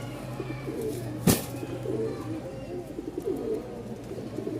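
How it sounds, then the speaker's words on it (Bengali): A male Rajshahi giribaz pigeon coos in soft, rolling throaty phrases, repeated several times over a steady low background hum, with one sharp click partway through. "রাজশাহী গিরিবাজের মন জোড়ানো ডাক দেখতেই পাচ্ছেন তো"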